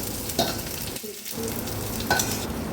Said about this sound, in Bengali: এবার দেবো লঙ্কা কুচি দিয়ে নেড়ে নেব